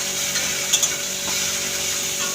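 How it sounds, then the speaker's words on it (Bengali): Ginger garlic paste is sautéed in a pan with a steady, bright sizzle and hiss throughout, two small scraping stir clicks near the start, fairly loud and close, with no talking. "আদা রসুন বাটাটা ভালো করে এর সঙ্গে একটু কষিয়ে নিতে হবে।"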